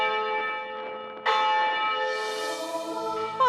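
Antique church bells ring out from a belfry in La Paz, Iloilo, with a sustained, resonant tone that is renewed by a fresh strike partway through and rings on without any voices.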